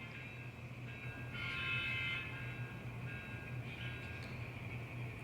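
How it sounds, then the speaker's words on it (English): An N scale model Amtrak train moves along the track, giving a faint, steady low rumble with a thin high whine of the small motor throughout. "I got to move the Amtrak sitting in the interchange track. We got to move him on out. So here he goes."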